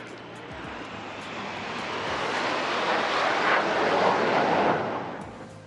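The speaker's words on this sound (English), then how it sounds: "the indigenously built multi-role light combat aircraft Naval Prototype 1 in the center, flanked by 2 advanced jet trainer Hawks" Formation flypast of an indigenously built LCA Naval Prototype light combat aircraft flanked by two Hawk advanced jet trainers: a broad jet roar builds, peaks and begins to fade over several seconds, with wind buffeting the microphone.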